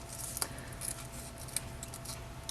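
Scissors cutting ribbon for a hair bow, a few crisp snips close up over a soft background, spaced irregularly.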